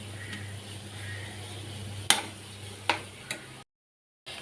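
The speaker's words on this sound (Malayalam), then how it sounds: "നല്ല പൊടി ഇട്ട് കൊടുത്തിട്ടൊന്ന് ഇളക്കി കൊടുക്കാം കേട്ടോ" Spice powders stirred into an egg curry masala: a low steady sizzle with a few sharp clicks of a spoon against the pan, then a brief silence near the end.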